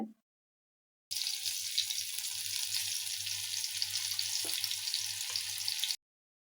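Bombay duck (bombil) fish dropped into hot oil one by one, frying with a steady, close, dense sizzle that starts abruptly and runs continuously, with a soft low hum beneath and no talking.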